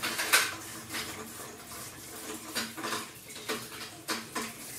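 Dishes being scrubbed and washed in a home kitchen, soft repeated clinks and scraping rubs of utensils with light water sounds, close but quiet.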